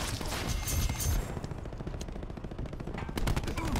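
The Spitfire gun in Call of Duty: Black Ops 4 unloads in dense, rapid automatic bursts, loud and continuous, with crackling shots blurring together and no voices.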